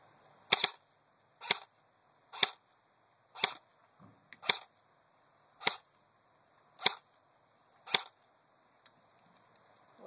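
JG M4 airsoft rifle fired into the wind on a long-range accuracy test outdoors, eight or nine sharp single shots spaced about a second apart, crisp and close against a faint windy background.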